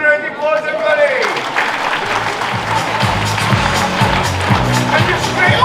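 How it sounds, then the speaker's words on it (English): An audience at a property networking event applauds steadily for several seconds, a dense, even clatter of clapping from a crowd. A voice speaks at the start, before the applause takes over. "Can we get Bobby a round of applause, everybody?"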